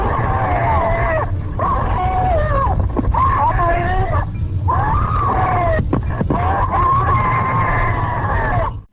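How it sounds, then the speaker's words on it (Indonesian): A woman screams hysterically and continuously, loud and harsh with wavering pitch, broken by a few brief gaps, from a recorded 911 phone call used in the video game Nun Massacre. "audio jeritan itu merupakan audio asli dari rekaman suara telepon 911"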